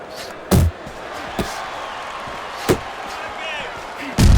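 Punches landing in the boxing video game Fight Night Champion: a few sharp thuds spaced irregularly, the loudest at the start and end, over a steady arena crowd murmur with commentary running underneath.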